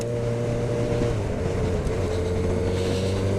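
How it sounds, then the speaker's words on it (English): A 150-horsepower 2022 Honda CB1000R Black Edition naked motorcycle drones steadily while being ridden, a loud constant engine hum with low tones and wind rush. "I'm riding the Honda CB1000R Black Edition, which is 150 brake horsepower"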